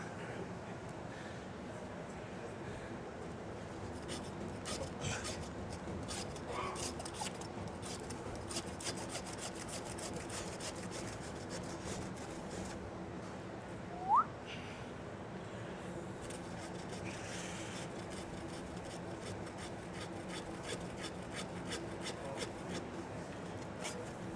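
A hand saw cuts through the ribs of a side of beef with steady, continuous rasping strokes, fairly close, plus one brief squeak midway and no talking.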